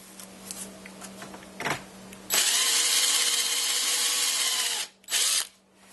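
A power drill with a step bit whines loudly through the plastic of a NuTone radio intercom master station for a few seconds, stops, then gives a brief second burst after some light handling noises.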